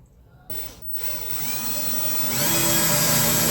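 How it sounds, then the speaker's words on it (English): A power drill bores a hole during a truck bed storage install on a Toyota Tacoma short bed, starting after a brief pause and whining steadily, rising in pitch and loudness as it bites through, close up. "I gotta drill this guy to get this one in"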